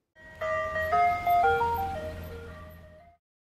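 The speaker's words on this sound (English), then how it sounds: "Ice cream truck." Ice cream truck in a truck-building video game plays a bright, clear jingle of stepping melody notes over a low engine hum, loud and alone, then fades out.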